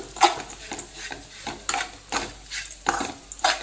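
Ground coconut frying in a pan while being stirred, a run of rhythmic scraping strokes over a soft sizzle, fairly close and moderately quiet.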